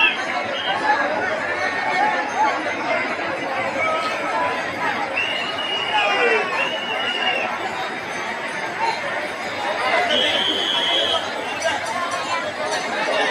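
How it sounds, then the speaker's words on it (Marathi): A large crowd of pilgrims waiting in a queue at a Vitthal darshan after rain, a steady dense murmur of overlapping chatter with occasional nearer voices standing out. "बघा इकडे भाविक आहेत, बघा लोकांची गर्दी किती"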